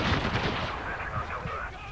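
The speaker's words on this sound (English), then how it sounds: "Somebody using a shotgun." Shotgun fire crackles in the war shooter Spec Ops: The Line, a fairly quiet burst of blasts mixed with gunfire and battle ambience.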